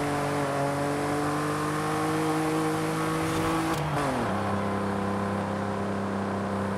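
A Cadillac limousine's engine droning in Forza Horizon 5, a loud continuous hum holding steady and slowly rising, then dropping sharply in pitch at a gear change before settling into a lower steady tone.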